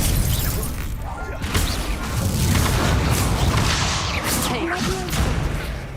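Confringo fire-blast spells exploding in Hogwarts Legacy combat, loud deep booms and crashing bursts layered over dense game noise, with a voice speaking intermittently.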